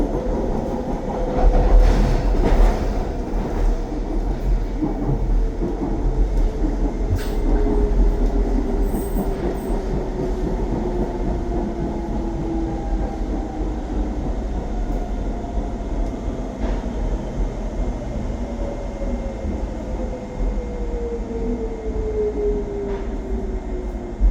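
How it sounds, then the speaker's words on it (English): London DLR light-rail train running between Tower Gateway and Beckton, a loud steady rumble of wheels and motor with gliding whines of the electric drive, heard from inside the carriage. "This train is for Beckton."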